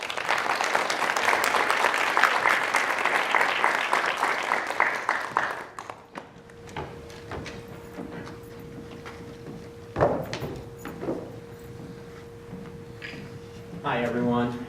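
A conference audience applauds to welcome a speaker, with dense clapping for about six seconds before it fades into quiet room noise, a faint hum and a few scattered sounds.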